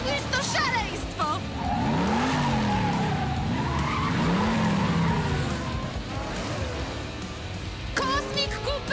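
Animated Hot Wheels race cars skid and race, with sustained tire squeals, sweeping engine whines and revving in a dense, loud, continuous mix, and brief chirping squeals at the start and end.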